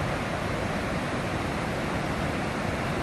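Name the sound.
waterfall hidden behind trees in the Smoky Mountains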